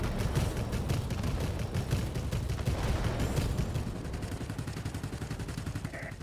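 Rapid bursts of rear turret machine-gun fire from an SNCAC NC 1070 plane in World of Warplanes, a dense rattling stream of shots under engine drone, fairly loud and continuous.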